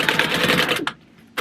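A sewing machine top stitching fabric, a short close burst of rapid mechanical stitching that stops abruptly, followed by a brief pause and a small click.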